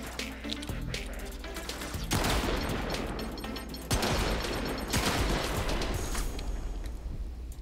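Rubico sniper rifle fire in Warframe, loud booming shots and dense crashing game effects layered over one another, with a few quick bursts and a faint voice in the background.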